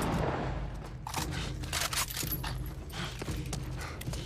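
Gunfire in The Last of Us Part 1, a dense run of sharp shots layered over constant game ambience and music, with several bursts close together across the whole stretch.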